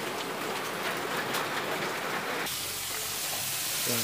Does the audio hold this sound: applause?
no